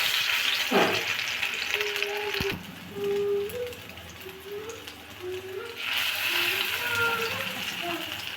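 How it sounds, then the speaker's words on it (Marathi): Small shrimp vadis fry in hot oil, with a bright crackling sizzle that swells toward the end, under a voice talking and a few scraping clicks. "आपण याच्या छोट्या छोट्या वड्या बनवूया। अशा प्रकारच्या, आणि त्या तेलात आपण सोडून घेऊया।"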